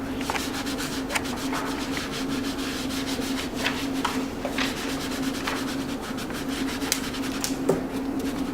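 Steady rubbing of paper by hand during an image transfer, a continuous scratchy friction close by with a faint background hum throughout and no talk.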